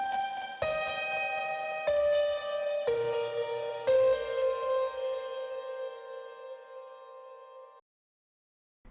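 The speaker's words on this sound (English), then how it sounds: "So here's how that piano sounds without that." Solo piano track from a worship pop mix, dry without equalization: five struck chords about a second apart, each ringing with sustained harmonics and decaying into a long fade before cutting to silence near the end.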